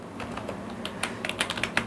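Quick, light keystrokes on a computer keyboard type out a short word, a run of irregular clicks picking up pace toward the end, close and fairly quiet with no talking.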